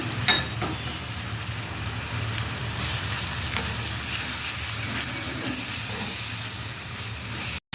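Continuous sizzling and hissing of something frying in hot oil, steady and close, with a few faint clinks near the start.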